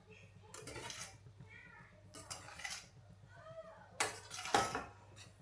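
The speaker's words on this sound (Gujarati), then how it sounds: "આપણે થોડુંક આવી રીતે મિક્સ કરી દઈએ, એટલે બધા ઢોકળામાં રાઈ ને બધું લાગી જાય." A spoon scraping and clinking in a pan or dish while hot mustard-seed tempering is mixed into khaman dhokla, soft intermittent metallic taps and scrapes, quiet and close, with faint voices in the background.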